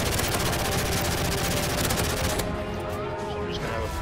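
Rapid automatic gunfire rattles in a military shooter game, dense and continuous at close range, steady bursts filling the scene with loud crackling shots.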